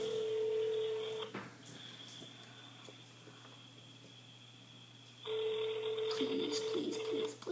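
On an outgoing call, a phone rings back through the handset with a steady tone, pauses for a few seconds of quiet line hiss, then rings again. Light clicks and a brief voice-like sound come near the end.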